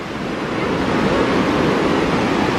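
Ocean waves break on a beach at Corpus Christi in a loud, continuous, close surf roar with wind buffeting the microphone, and no one speaks.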